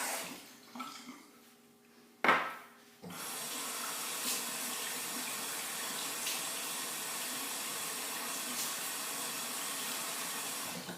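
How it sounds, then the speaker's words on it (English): A tap runs steadily as water splashes over a face being rinsed after a shave with a 1912 Gem single-edge razor; a brief clatter comes first, then the flow holds, continuous and close. "And then just the final rinse."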